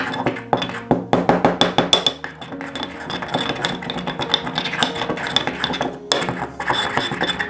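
Two cloves pounded in a mortar and pestle, giving sharp metallic clinks in a quick run of strikes that settle into steady lighter grinding and tapping, close by with no voices.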